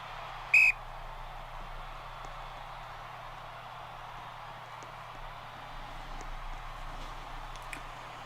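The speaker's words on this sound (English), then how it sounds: "Whistle blown and we are underway." A referee's whistle blasts once, sharp and short, to start a night football game in the OFL Legacy Bowl, followed by a quiet, steady crowd and field ambience.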